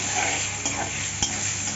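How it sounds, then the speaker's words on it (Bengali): Fish being stirred in a frying pan with salt and turmeric, while potatoes fry for a Bengali aar fish dish. A steady close sizzle runs throughout, with a few soft utensil scrapes and taps against the pan. "ভালো করে নাড়িয়ে চাড়িয়ে ভেজে নেব।"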